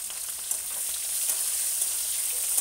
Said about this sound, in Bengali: দেখো এঁচড়টা এই যে ভেজে নিচ্ছি